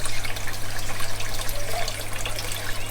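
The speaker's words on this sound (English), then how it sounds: "Get the water going." Water trickles and splashes steadily into a backyard aquaponics fish tank, recirculated by a pump, with a low constant hum beneath the close, continuous burble.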